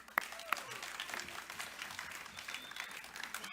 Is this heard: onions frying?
no